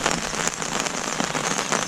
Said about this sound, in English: we are getting a bit of a big downpour now.